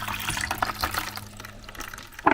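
Water trickling and splashing out of a blocked kitchen drain line into a bucket, a steady bubbling flow with a low hum beneath and a sudden louder gurgle at the end.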